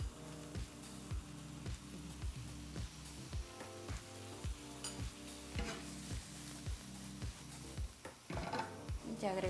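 Sauce sizzling and being stirred in a frying pan while making fusilli pasta, a steady close frying hiss broken by regular scraping strokes of a utensil against the pan.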